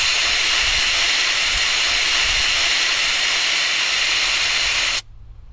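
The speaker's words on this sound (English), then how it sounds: "you can pull back on this piece right here, which will start relieving pressure from the tyre" Air hisses loudly and steadily out of a 4WD tyre valve as the tyre is aired down for off-road driving, then cuts off abruptly near the end.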